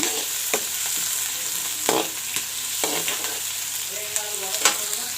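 Onions fry in a pan for a greens saaru, a loud steady sizzle with repeated spatula scrapes and taps as they are stirred, with no speech.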